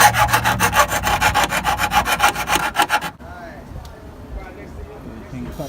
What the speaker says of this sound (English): I'm going to go grinder, going to go at it.